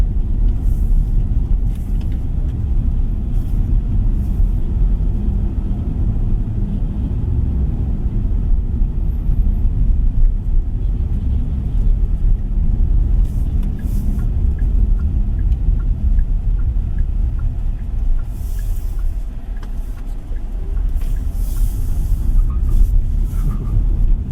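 A 2026 Kia EV5 rolls over a bumpy road, heard as a steady, loud low cabin rumble of tyres and suspension with small knocks and occasional brief higher rustles, no voices.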